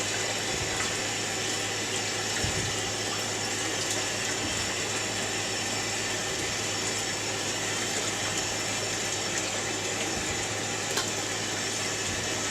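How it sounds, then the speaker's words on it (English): Running water pours steadily as ribs are rinsed, a continuous, even gush with no talking. "just give them a quick rinse, because as they're sitting in the clear water, what brine is in them will be leached out slowly"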